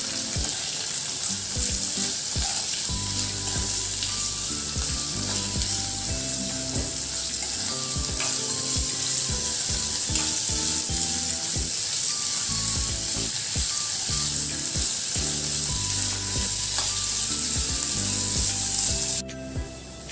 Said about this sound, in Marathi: एक मोठा कांदा मी उभा चिरून घेतलेला आहे तो सुद्धा आपल्याला छान परतून घ्यायचा आहे